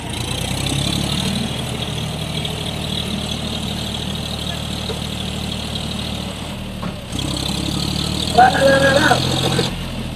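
A car stuck in mud idles and hums with a low steady engine drone, rising slightly toward the end, with voices talking over it nearby.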